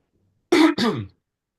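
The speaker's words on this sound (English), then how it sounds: "I can't clear my throat for some reason" Two quick, rough throat-clearing bursts close to the mic, a brief pause between them, then silence.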